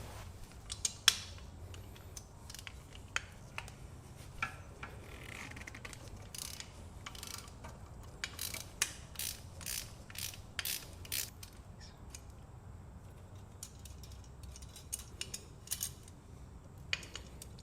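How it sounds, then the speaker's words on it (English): Mechanical tool work removes the bolt fixing the brake pedal to the rear set on a Yamaha MT-09 / FZ-09 motorcycle, with an Allen head and a 14mm nut. Repeated quiet ratcheting clicks and metallic ticks come in irregular bursts, close by and without talk. "we'll need to remove also this bolt right here that holds brake pedal to the rear set"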